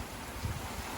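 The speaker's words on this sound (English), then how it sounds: "It's pretty windy out there" Wind buffeting a sailboat offshore in the Gulf Stream as a squall arrives, a steady low rumble of gusts on the microphone with a slight swell midway through, no voices.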